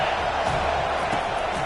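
Dense, steady roar of a college football stadium crowd cheering for the defense on third down, a broad wash of noise filling the whole stretch with no break.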